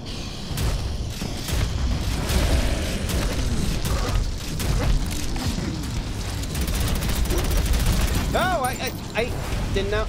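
Gunfire from a sniper rifle and other weapons in the shooter video game Prodeus, played on a community map, booms in dense repeated bursts. The shots sit under a player's ongoing talk, with a rising electronic tone near the end.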